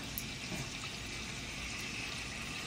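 Starchy pasta cooking water is poured while making rigatoni gricia, a steady close splashing trickle that runs evenly through the short stretch without talk.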